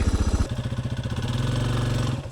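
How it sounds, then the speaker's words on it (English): A dual sport motorcycle rides over a log on a trail, its single engine chugging loud and close with a rapid throbbing beat that rises slightly as it climbs. "you can hit logs and stuff and it will soak it right up"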